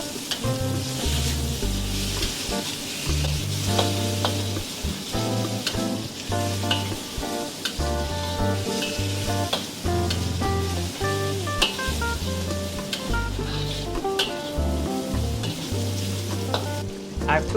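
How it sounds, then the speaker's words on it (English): Potato and tomato hitting a hot wok for mamak mee goreng, a Malaysian Indian Muslim stir-fried noodle dish, sizzling steadily and loudly with repeated scraping and clanking of a spatula stirring throughout. "Now next I'm gonna add the potato and the tomato."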